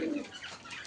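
Lakka fantail pigeons give a short, soft cooing note, close and brief against faint background sound.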